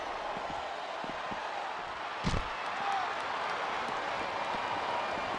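Arena crowd noise in the WWE SmackDown vs Raw wrestling video game. A steady, moderately loud wash of crowd roar, with a short thump near the middle.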